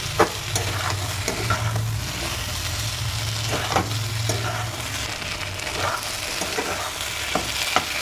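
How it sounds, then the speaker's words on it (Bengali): Chicken pieces for spicy garlic chicken fry and get stirred in a pan. A steady sizzle runs under repeated clacks and scrapes of a spatula at irregular intervals, close up and with no voices. "এরপর এর মধ্যে চিকেনগুলো দিয়ে দেবো। খুব ভালো করে নাড়িয়ে চাড়িয়ে মিক্স করে দেবো।"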